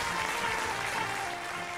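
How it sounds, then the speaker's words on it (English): Applause for the late Swedish pop producer Denniz Pop within a documentary, a steady wash of clapping that holds at an even level for under two seconds, heard on its own without talk. "An applause for Dennis Pop."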